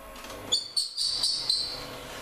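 A cooking robot's rubber seal heats with risotto ingredients at about 100 degrees and gives off thin, high, bird-like squeaks. Short chirping bursts rise over a quiet background hum.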